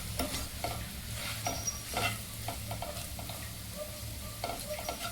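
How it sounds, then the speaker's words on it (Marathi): Onion with turmeric sautéing in a pan for a curd chutney, a steady close sizzle with repeated spatula scrapes and stirring strokes over it, no voices. "हळद घालून छानपैकी कांदा हा एकजीव परतून घ्यायचा आहे"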